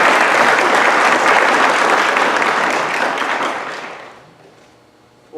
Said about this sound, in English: I'd like to give them a warm round of applause.